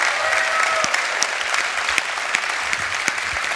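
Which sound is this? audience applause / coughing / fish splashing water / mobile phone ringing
audience applause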